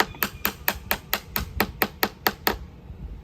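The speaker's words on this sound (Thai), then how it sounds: "แล้วถ้าคุณครูเคาะโต๊ะล่ะจะเสียงแบบไหนนะ" A teacher knocks on a table with about a dozen sharp, evenly spaced raps in quick rhythm, close and distinct, then stops.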